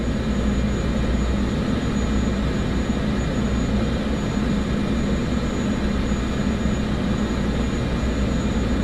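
A steady, loud roar of airliner jet engines at takeoff in Microsoft Flight Simulator 2024, holding an even, unbroken rumble throughout with no voices.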